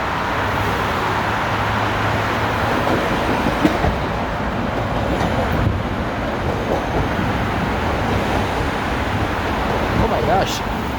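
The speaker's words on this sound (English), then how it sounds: "Hold on, I was not expecting this train to be like this. This is 2600 series." A 2600 series rail train passes close by, its broad steady rumble holding for the full length with wheel and car noise, some traffic mixed in, and voices talking over it now and then.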